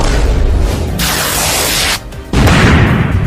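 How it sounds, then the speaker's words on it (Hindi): A loud cartoon firecracker blast near the cats' house, a dense roaring burst of noise that briefly drops away and then crashes back in, with no talk over it. "लगता है किसी ने हमारे घर के पास एक बड़ा पटाखा फोड़ दिया है"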